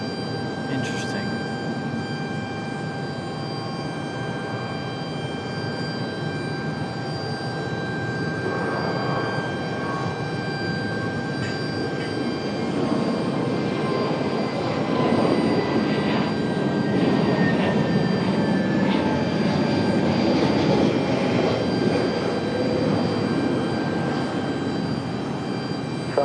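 A Southwest airliner departs the runway at Raleigh Durham airport, its jet engines a broad, sustained roar that swells and holds across the whole stretch, with faint radio chatter and steady background tones.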